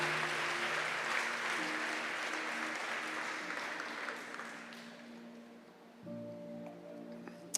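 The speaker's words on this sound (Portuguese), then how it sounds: "Dê uma salva de palmas para Jesus" A church congregation applauds during a sermon, a broad wash of many hands clapping with sustained musical tones underneath, fading out before a keyboard chord sounds.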